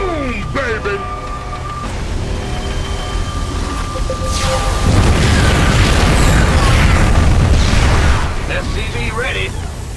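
A massive Purifier energy blast erupts in StarCraft 2, building from electronic tones into a loud, roaring explosion that swells for several seconds and then slowly fades, with no talk over it.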